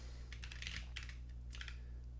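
Computer keyboard keys clatter in a few short bursts of quick typing, close but quiet over a low steady hum, with no one talking.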